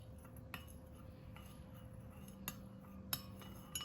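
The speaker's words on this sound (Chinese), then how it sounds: "找一个勺子充分的搅拌搅拌，让枸杞充分的浸泡在水中。" A spoon stirs goji berries steeping in astragalus and tea water, giving a few faint clinks against the cup or pot over quiet background hiss.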